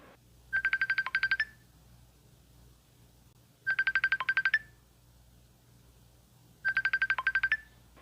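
Phone ringtone plays in three repeated bursts of rapid trilling pulses, each about a second long and spaced roughly three seconds apart, moderately loud over a low background hum during an eFootball match stream.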